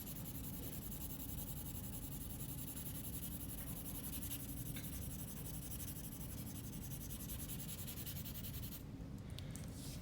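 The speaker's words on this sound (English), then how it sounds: "go over it with the marker" A blender marker drawn over pencil lines on paper gives a soft, steady scratching and rubbing, close and faint, continuing for several seconds with a brief sharper scrape near the end.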